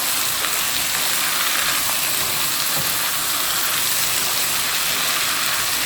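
Egg sauce with tomatoes stirred in a frying pan, a continuous close crackling sizzle like light rain, steady in level throughout, with no voices.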